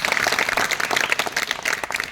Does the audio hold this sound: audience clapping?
yes